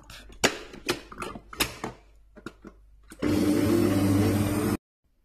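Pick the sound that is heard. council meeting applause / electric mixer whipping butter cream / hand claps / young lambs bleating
electric mixer whipping butter cream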